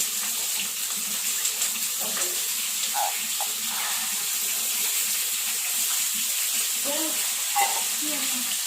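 Raw potatoes frying in a pan for a vegetarian potol and soybean dish, a steady soft sizzle throughout with faint clinks and stirring scrapes, heard close.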